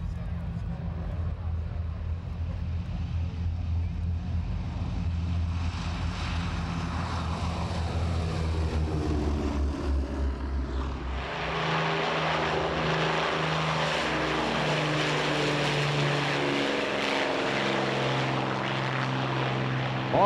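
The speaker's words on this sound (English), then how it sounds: "Now, you've seen the B-17s take off." B-17 Flying Fortress bombers at an air show taking off, a loud multi-engine propeller roar that builds and shifts in pitch as the heavy bombers pass, with a public address announcer talking over it.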